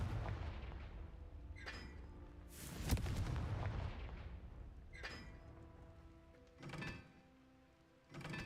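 Fiery blast spell explosions in the Hogwarts Legacy video game, several booming impacts with rumbling low tails, one especially heavy at about three seconds, then further bursts spaced apart, fairly faint overall.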